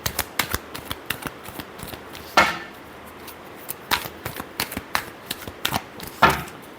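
Tarot cards being shuffled by hand, a run of quick soft riffling slaps and flicks in an irregular rhythm, close and fairly crisp, with no talking.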